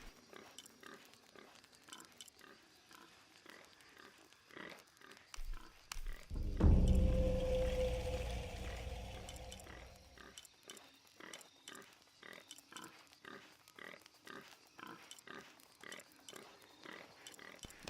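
A pig in the Shadow of the Tomb Raider game grunts in one loud, rough burst that swells and slowly fades over several seconds, set against a steady rhythmic clatter of footsteps or game ambience.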